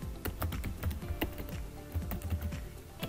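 Someone types a password on a computer keyboard in short, quick runs of close, crisp key taps, with no talking.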